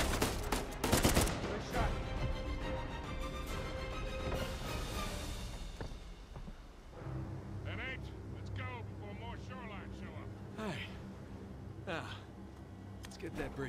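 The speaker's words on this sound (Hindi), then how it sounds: "भाई ये बड़ी अजीब गन है" Gunfire from an unusual gun in Uncharted 4, with loud bursts opening the stretch and sporadic shots and game effects after, while a player talks over it throughout.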